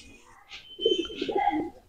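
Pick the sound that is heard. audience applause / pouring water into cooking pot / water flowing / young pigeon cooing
young pigeon cooing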